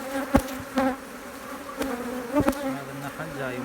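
Honeybees buzz around an opened beehive during an inspection, a close, wavering hum with several louder passes as individual bees fly near.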